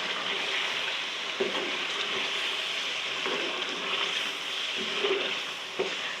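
Large chunks of chicken frying in a pan for chicken nihari, a steady loud sizzle with occasional soft stirring knocks and pops, close up and without talk.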